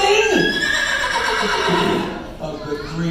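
A horse whinnies loudly at a Knott's Berry Farm attraction during the Boysenberry Festival, its descending neigh cutting through a continuous bed of performer voices and music.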